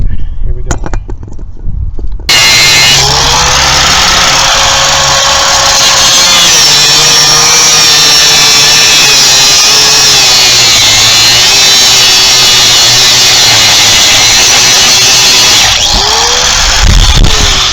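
A power grinder cuts out a seized ball joint on a Mk5 VW GTI, a loud close continuous whine with slight wavering pitch after a brief clatter at the start, drowning out everything else.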